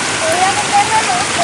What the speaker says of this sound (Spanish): Vean cómo nos estamos divirtiendo metiendo los pies al agua